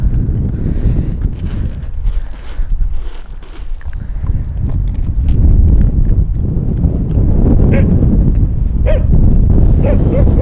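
Stray dogs at a garbage dump bark and yelp intermittently, partly buried under heavy gusting wind buffeting the microphone, with low rumbling noise throughout.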